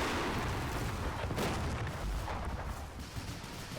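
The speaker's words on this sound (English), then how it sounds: "Look at all the mortars hitting near him as well." Mortar rounds explode in a war video game depicting an amphibious invasion, producing a dense wash of booming, crackling blasts that roll on continuously at moderate loudness.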